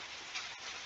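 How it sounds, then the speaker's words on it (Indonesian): Light drizzling rain, a steady even hiss of fine drops falling continuously close by, with no voices. "Maaf ya kalau suaranya agak berisik karena memang sedang gerimis."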